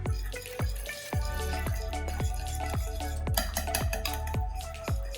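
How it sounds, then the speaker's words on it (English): Chicken tikka marinade being mixed in a bowl gives a steady, rhythmic run of wet, squelching strokes about twice a second, close and fairly loud throughout with no talking. "I'm gonna mix it nicely."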